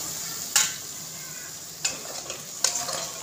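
Masala for a fish curry gravy fries in oil with a soft sizzle while being stirred, three sharp spoon scrapes against the pan standing out clearly at close range.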